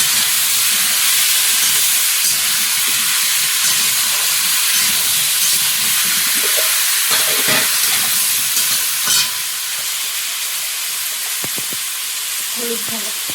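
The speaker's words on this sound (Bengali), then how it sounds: "ওল আলুটা একটু ভালো করে ভেজে নেব।" Elephant foot yam and potato frying in a pan with green chillies, turmeric and salt in a Sundarban home kitchen: a steady, close, broadband sizzle that runs the whole time, with occasional stirring scrapes and clinks.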